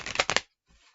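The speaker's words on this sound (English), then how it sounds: "So let's do a few shuffles" A deck of tarot cards is riffled in one quick, crisp burst, followed by a faint, soft rustle as the cards settle.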